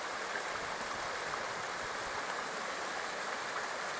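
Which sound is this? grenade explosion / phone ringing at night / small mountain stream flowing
small mountain stream flowing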